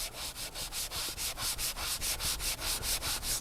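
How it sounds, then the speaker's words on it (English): A sanding block rubs back and forth over a leather steering wheel, a rhythmic series of about fifteen close scratchy strokes with a steady even pace. "you could take the sanding block here"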